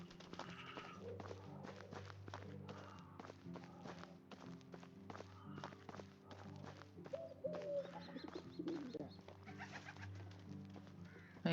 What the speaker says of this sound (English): There are pigeons all over here.